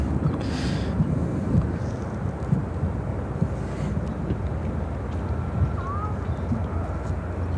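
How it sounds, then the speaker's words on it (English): An Embraer E-175 airliner operated by Republic Airways takes off at Chicago O'Hare, a broad, steady low roar of jet engines mixed with wind buffeting the microphone, heard from a distance. "Operated by Republic Airways, taking off to Grand Rapids, Michigan on the E-175."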